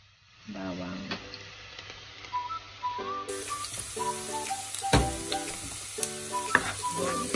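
Garlic sautéing in a pan while cooking bitter melon, a steady close sizzle with scattered clinks and stirring scrapes, under background talk and voices throughout.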